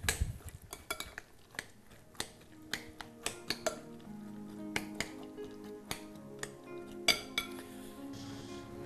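Utensils clink and scrape against a bowl while potato salad dressing ingredients are stirred, a string of sharp, irregular metallic taps and rattles close by, with no talking.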